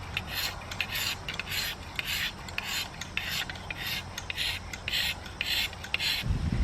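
A knife edge is drawn repeatedly across a DMT Diafold double-sided diamond sharpener, producing a bright, raspy scraping in a steady stroke-after-stroke rhythm, close and fairly loud with no talk.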